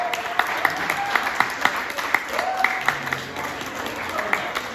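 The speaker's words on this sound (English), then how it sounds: "Join me in thanking the physicians of Queens County with a round of applause for Doctors' Day." Audience at a Queens County medical society Doctors' Day celebration clapping for the county's physicians, a steady patter of applause from a moderate crowd with a few sharper individual claps standing out.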